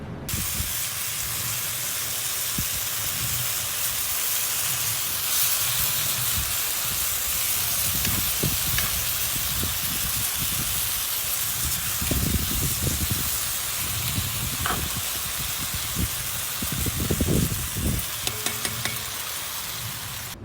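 Meat frying in a pan for a tomato dinner, a steady broadband sizzle and hiss running throughout with occasional louder spits and pops, close and continuous with no talking.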